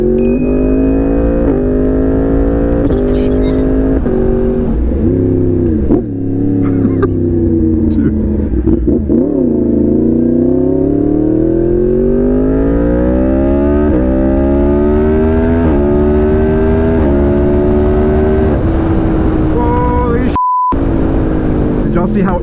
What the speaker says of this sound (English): I'm just gonna do a run up a local road here real quick, let you guys know what the bike feels like.